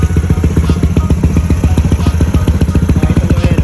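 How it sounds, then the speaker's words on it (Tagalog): A loud, smoking, faulty motorcycle engine runs steadily up close, its rapid rhythmic chugging thumps repeating evenly throughout with no voices. "Dahil may maingay dito sa makina."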